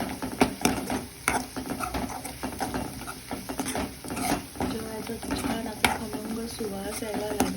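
Ginger and garlic stirred in a frying pan for palak bhaji, with spoon scrapes and soft sizzling patter repeating close by under steady kitchen noise.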